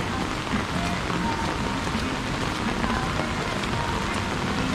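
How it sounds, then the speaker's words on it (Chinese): Steady rain pouring at an amusement park at night, a dense constant hiss of drops on wet surfaces, with no talk. "这边下雨没得停了"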